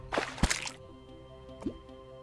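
Water drips and splashes in the game Terraria: a quick cluster of wet plops at the start, then quiet, then one more drip, all fairly faint.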